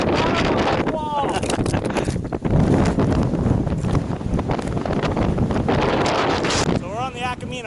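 Strong wind buffets the microphone on a mountain ridge along the Akamina Ridge hike, a continuous roar of gusts while a person talks.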